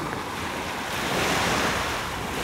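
Sea waves break steadily on the Sea of Azov shore in September, a loud, continuous wash of surf close by, with strong wind buffeting the microphone and no voices.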